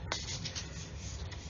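Sanding stick rubbing around the long seam of a Revell 1/144 Apollo Saturn V plastic model kit, a close, soft, continuous scratchy rasp with slight strokes and no pauses.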